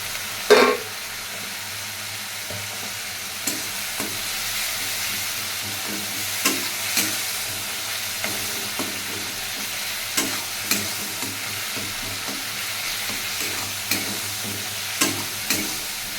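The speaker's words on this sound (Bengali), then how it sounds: "এখন একটু জল দিয়ে ভালো করে কষিয়ে নেব।" Spice masala is stir-fried with a splash of water in a pan, producing a steady broad sizzle and hiss. A spatula scrapes and taps the pan at a regular rhythm throughout, close up and without talk.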